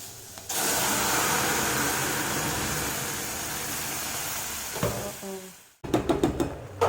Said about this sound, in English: I'll just saute it a little bit, and then I'm going to add the entire pasta sauce which I have made here